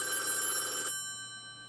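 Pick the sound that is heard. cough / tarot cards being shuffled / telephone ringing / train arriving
telephone ringing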